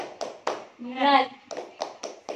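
A group of children in a school group-guidance session doing a tepuk semangat clapping chant: several sharp, evenly spaced hand claps, then a drawn-out chanted word, then four more rhythmic claps.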